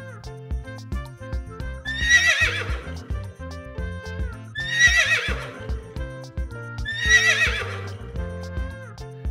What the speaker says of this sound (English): there are lots of wild horses. So let's make them clean. And here we go. Wild horse.